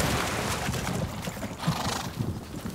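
Horse whinnying with repeated hoof clip-clops, fairly close and steady over continuous outdoor background noise, with louder hoof strikes near the end.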